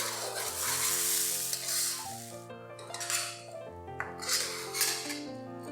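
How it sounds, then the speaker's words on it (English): Rice sizzles steadily in a hot frying pan while a utensil gently scrapes and stirs it, with a few clinks against the pan. "fry the rice for another 3 to 4 minutes. Be gentle when you're frying the rice."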